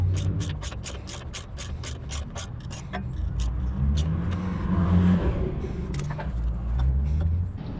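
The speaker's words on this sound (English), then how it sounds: "Finally, don't forget to tighten the main big bolt." A wrench tightens the main bolt of a transmission mount on a Suzuki Samurai, starting with a rapid run of loud, close ratcheting clicks and settling into a steady mechanical whir and rumble.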